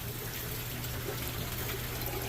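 Waterfall water pouring steadily into a garden pond at a fish rescue, a dense continuous rushing splash with a low hum underneath, close and even throughout.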